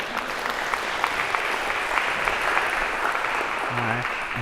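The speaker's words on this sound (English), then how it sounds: "maybe a round of applause to break the awkwardness here" A lecture-hall audience applauds steadily, a dense wash of clapping hands that holds at an even level throughout.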